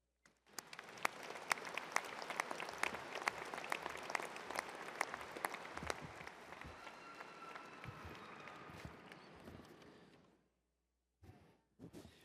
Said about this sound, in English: Please join me in applause as we recognize this special occasion here at Texas Tech.